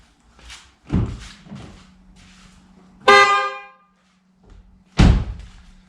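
A short car horn blast from a 2016 Skoda Octavia vRS between heavy thunks like a car door or hood closing, close by, with no talking.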